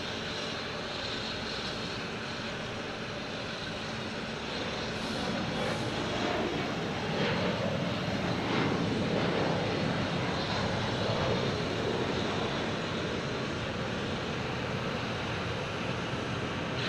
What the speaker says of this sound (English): There's JetBlue firing up here in the alley.